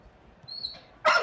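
A dog yips and then barks once in FIFA 18, a thin high whine followed by a sharp, loud bark at the end, with no speech.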